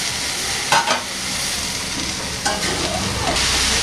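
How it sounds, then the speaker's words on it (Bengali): Amaranth greens frying in a pan are stirred steadily, a loud continuous sizzle broken by a few sharper scrapes of the spatula, with no voices. "এবার শাকটা আমি নাড়াচাড়া দিয়ে শাকটা আমি তৈরি করে নেব।"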